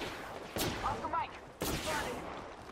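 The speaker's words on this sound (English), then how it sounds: "Taking fire. Getting shot at." Video game gunfire cracks in two sharp bursts with quick shots trailing after, faint and distant-sounding, with a voice murmuring underneath.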